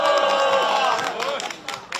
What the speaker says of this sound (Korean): 여러분 박수 한번 쳐주세요.